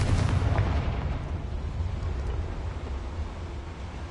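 A Confringo blasting spell goes off in Hogwarts Legacy as a loud, booming explosion that bursts at the start and rumbles down into a long decaying roar, with no voices over it.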